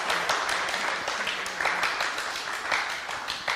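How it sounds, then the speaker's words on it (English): Audience applause at a morning session of a conference gathering, a steady wash of many hands clapping at moderate volume throughout, with scattered individual claps standing out. "let's first of all get a round of applause"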